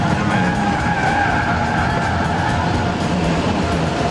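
A 2015 Mercedes-Benz C-Class taking a corner in Sport mode gives steady, loud road and engine noise with a tire-squeal whine running throughout, close and continuous with no talk.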